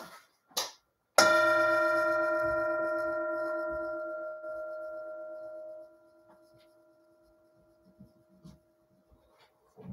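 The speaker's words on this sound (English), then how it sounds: "Here's the bell." A single meditation bell is struck once during a Sunday mindfulness service, ringing clear and close, then fading slowly over several seconds into near silence, with faint room noise afterward.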